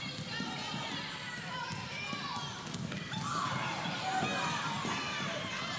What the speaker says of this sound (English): the Old Bridge crowd a little vociferous, thinking that a foul should have been called